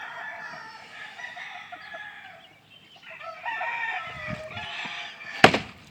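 A pair of non-bearded Bantam gold chickens in a brood pen cluck and crow at close range. The calls run on and off with a few louder bursts and one sharp knock near the end.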